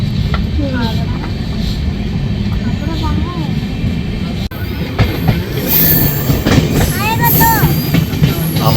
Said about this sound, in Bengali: এইটা ক্রসিং হলো আর আমাদের ট্রেনটা ছাড়লো।